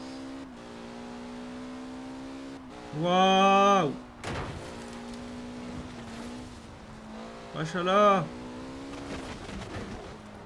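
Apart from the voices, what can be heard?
car driving in Forza Horizon 4 video game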